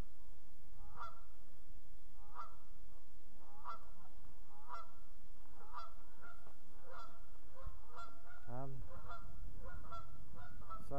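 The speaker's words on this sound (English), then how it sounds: "Sorry about the noisy geese." Geese honk repeatedly and loudly near an abandoned papermill and railroad bridge, a steady chorus of nasal calls over constant outdoor background noise.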